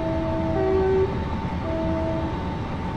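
Train horn sounded at a whistle board on the Portsmouth Direct Line in Train Simulator, two steady tones over a constant rumbling cab.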